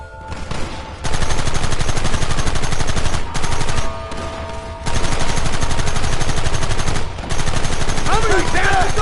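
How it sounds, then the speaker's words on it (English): Heavy gunfire in the Red Dead Redemption video game on PS5, dense bursts of rapid shots in long loud stretches broken by brief pauses, with a faint voice near the end. "There they are! Open fire!"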